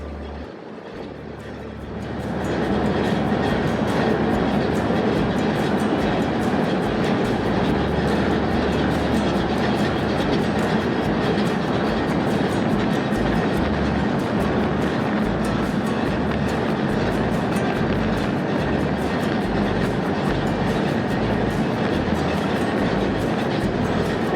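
Dhumketu Express rumbling across the Jamuna rail bridge between Sirajganj and Tangail, a loud, continuous roar of wheels and carriages that starts abruptly and holds steady throughout, with no voices.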